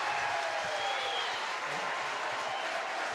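Cheering and clapping fill a ballpark during an IBL finals game between the Toronto Maple Leafs and London Majors after an RBI double, an even, broad roar of the crowd holding steady without a break.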